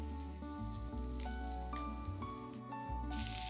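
Potato and cauliflower pieces fry in hot oil for dhaba-style aloo gobi. A close, continuous crackling sizzle runs throughout with dense popping spatter and no voices.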